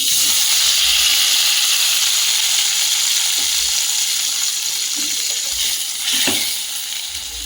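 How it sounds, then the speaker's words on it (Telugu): Tomatoes frying in oil in a pan for mint tomato chutney, a steady close sizzle with faint stirring scrapes, no talk. "ఇప్పుడు ఇందులోనే కొంచెం ఆయిల్ వేసుకుందాం. టమాటాలు వేసుకుందాం."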